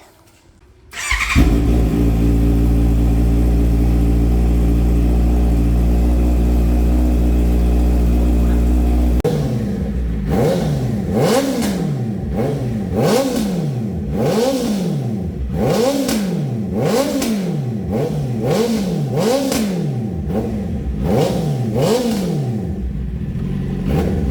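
Honda CBR650R motorcycle fitted with an IXIL full exhaust system, idling loudly with a steady drone, then revved repeatedly in sharp rising and falling bursts close to the microphone, no talking.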